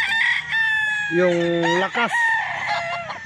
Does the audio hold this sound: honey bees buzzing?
no